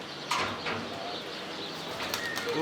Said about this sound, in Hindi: कौन से कबूतरों का शौक करवा रहे हैं?